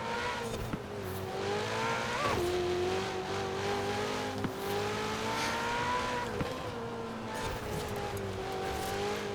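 A loud race car engine in the Forza Horizon 4 racing game, holding a steady, harmonic drone that rises and dips with gear shifts and throttle changes, continuous and close, with no talk over it.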